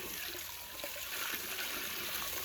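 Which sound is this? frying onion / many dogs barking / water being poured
water being poured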